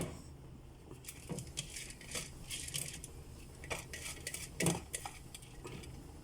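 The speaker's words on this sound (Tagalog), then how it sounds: "Pag kumulo na siya, kailangan na natin ilagay yung rice." Biryani rice being poured into a cooking pot and stirred, giving soft clinks of a utensil against the pot and grainy scraping and pattering, faint and close, in irregular bursts without speech.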